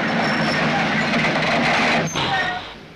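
A train rumbles past in 1962 Berlin with a steady mechanical drone and faint high squeals, fading slightly toward the end; talk can be heard over it.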